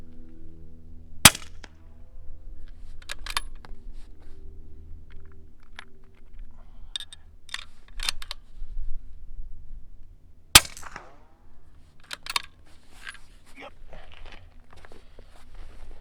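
300 Blackout rifle firing reloaded subsonic 220-grain ammunition outdoors, two sharp distant-sounding cracks about nine seconds apart, with softer clicks, rustling and handling noises between and after them.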